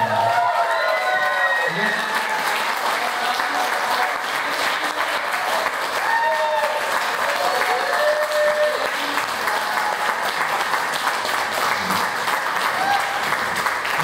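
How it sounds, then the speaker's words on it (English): A crowd of audience members applauds steadily after a student rock camp show at the Ike Box venue, with dense sustained clapping, scattered whoops and cheers, and voices talking in the crowd beneath it. "Let's give them another round of applause"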